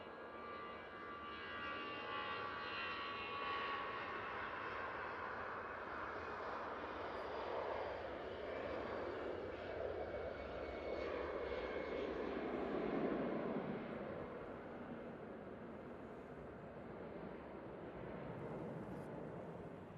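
An EasyJet airliner on its takeoff roll at Manchester Airport gives a steady, loud jet roar that swells and peaks before easing off slightly, with no talk over it.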